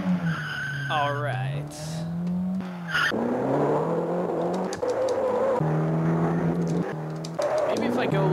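A car in the arcade racing game Blomby Car brakes and skids with repeated tire squeals and shifting engine whine, close and loud, while someone talks briefly over it.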